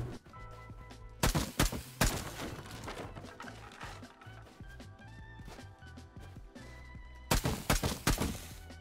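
A shotgun trap in the survival game Rust fires in two sharp, loud clusters of blasts, one early and one near the end, with quieter rattling and clatter between them.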